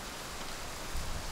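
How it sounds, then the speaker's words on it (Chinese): Heavy rain falling in a steady, dense hiss that fills the whole stretch, close and loud with no voices over it. "雨下大了"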